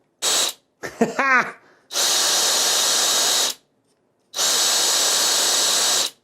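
A broken electric drill motor, taken out of its housing, whirs in three steady bursts that cut off abruptly, with a brief squealing chirp between the first two; loud and close, no talking.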